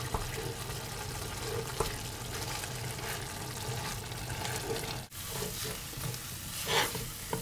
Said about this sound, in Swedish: Och sen fortsätter man att blanda.